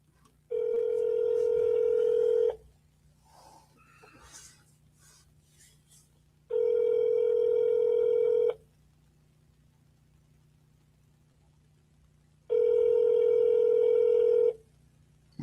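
Ringback tone on a phone call to an observatory: three long steady buzzing tones of about two seconds each, separated by four-second pauses with faint muffled talk in the gaps.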